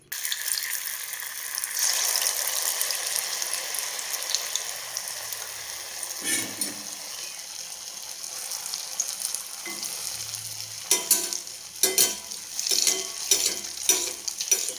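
Dough balls dropped into hot coconut oil, a constant bubbling sizzle with some scraping and clattering bursts toward the end as they are moved around in the pan.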